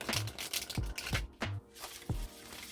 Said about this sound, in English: These cards are huge and slippery, and shuffling them is really chaotic.